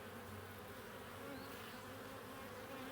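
Honeybees buzz steadily inside an opened, very full and healthy beehive with the inner cover removed, a dense, continuous close-up drone with no talking.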